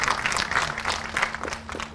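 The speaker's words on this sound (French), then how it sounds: "Je voudrais qu'on les applaudisse." An audience applauds at a ceremony, a steady wash of clapping held at a moderate level for the full two seconds.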